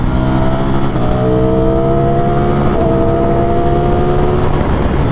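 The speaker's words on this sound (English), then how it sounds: "just the rumble that the engine has and the sound that you get is good right out of the box" A loud 2023 Ducati Streetfighter V4 sport motorcycle engine rumbles and revs steadily up, its pitch climbing in smooth rising sweeps, close by with no voices.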